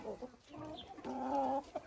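A rooster and hens cluck softly while feeding, a few close, short clucks followed by a longer tonal call, all fairly quiet.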